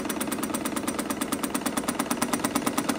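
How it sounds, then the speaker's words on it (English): A sewing machine stitching a buttonhole, a fast steady mechanical chatter of needle strokes repeating evenly and close, with no talk. "when you're sewing a buttonhole, you don't really have to move the fabric. The machine does that for you."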